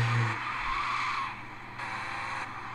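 Car tires squeal and skid in GTA Vice City on mobile, a sustained high screech over a steady engine drone, fairly loud and continuous, with no voices.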